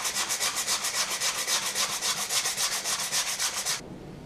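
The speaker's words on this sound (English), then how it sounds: "I'm ready for some pretty heavy sandpaper." Heavy sandpaper rubs back and forth on a wooden axe handle in quick, regular strokes, about two per second, close and distinct, then stops abruptly near the end.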